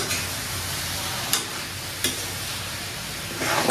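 Cooked mutton curry is stirred in a pan over a low, steady sizzle, with a couple of distinct scrapes of the spoon against the pan.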